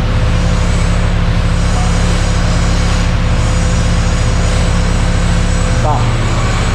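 A turbocharged Ford Fiesta engine runs hard on a dynamometer, a loud, dense, continuous roar with a steady hum throughout and a brief chirp near the end, while people talk over it.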